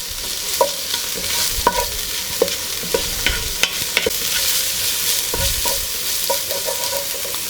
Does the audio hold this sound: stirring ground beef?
yes